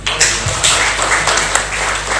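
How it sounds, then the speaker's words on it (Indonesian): An audience gives a short burst of applause, with clustered claps rising and fading across a couple of seconds over a steady low hum. "Tepuk tangan dong."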